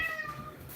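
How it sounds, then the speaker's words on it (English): A single short cat meow, close and moderately loud, fading quickly. "What are you meowing about?"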